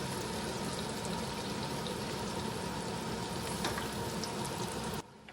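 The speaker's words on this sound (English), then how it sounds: "Cook on medium heat until onions are translucent." Chopped onions with a bay leaf, a cinnamon stick piece and black cardamoms sauté in a pan over medium heat, giving a steady, dense sizzle that runs evenly with no voices and then drops away abruptly near the end.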